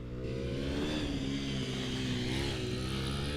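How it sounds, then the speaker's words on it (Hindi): A Hero Xpulse 210 adventure motorcycle engine revs hard and steadily, a loud, continuous buzzing drone heard close up. "इंजन इतना फ्रीली रेव करता है and it gives you very good power"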